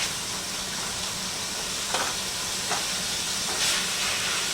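Ground beef cooking in a pan for cheesy southwest beef tacodillas gives a steady, even hiss and sizzle throughout, with a few brief louder crackles and no talk.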